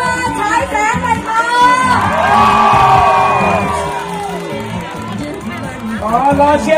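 Supporters at a Pheu Thai campaign rally in Chachoengsao cheer and whoop in a loud, sustained swell. Shouts and crowd chatter mix with an amplified announcer's voice calling over them.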